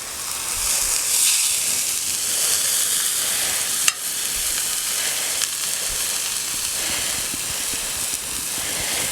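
Butter and minced garlic sizzle on a Blackstone griddle in a steady, crackling hiss, with a couple of sharp clicks of a utensil against the hot surface.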